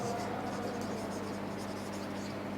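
Pen or chalk scratching out math symbols for set-builder notation, a continuous soft scraping at close range under a steady background hum.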